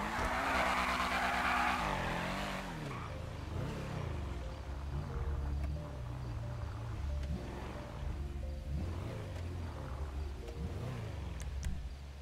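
A mean-sounding Tailgater car in a video game roars loudly and steadily, its engine pitch sweeping up and down through gear changes while tires squeal and skid.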